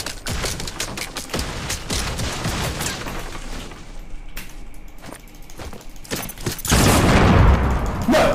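Gunfire in Fortnite: rapid bursts of shots and sharp cracks close up, with a brief lull in the middle, then a louder burst of firing and clatter near the end.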